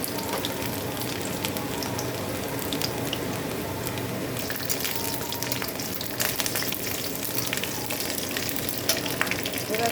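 Chopped garlic sizzles in hot oil in a pan alongside dried red chillies, a steady close crackling hiss with scattered sharper pops growing busier midway.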